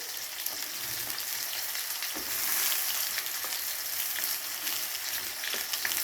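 Vegetables sizzle steadily in a hot pan as tomato goes in with already-fried potato and pointed gourd, a dense continuous frying hiss with faint stirring scrapes and no voices.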